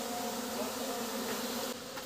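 Honeybees swarm around a bait hive out in nature, giving a continuous close buzzing hum that stays steady and dense throughout, with no voices.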